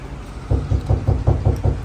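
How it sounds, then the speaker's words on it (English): Rapid knocking on a door in a garage workshop, a run of about eight evenly spaced, fairly loud thuds with no voices. "Knocking like the police for it, dude."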